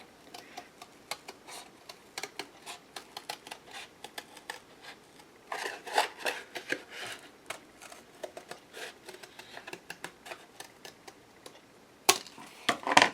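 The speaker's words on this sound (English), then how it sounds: "I will cut one side of the template" Faint snipping and light cutting clicks as a template for a small wooden shrine is cut out, an irregular series of soft ticks with a few sharper, louder snips toward the end.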